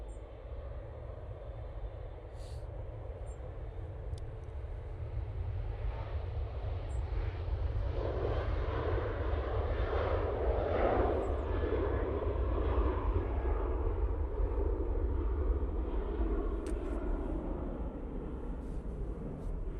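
Jet airliner on its takeoff roll at Manchester Airport: a broad, steady engine roar swelling gradually and holding loud for several seconds before easing slightly, heard from a moderate distance with no talk.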